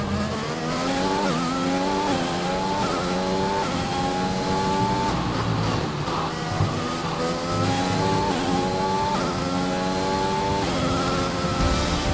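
A Formula 1 race car engine on the final lap in the F1 2021 video game, screaming at high revs with repeated upshifts and downshifts, loud and continuous, no voices.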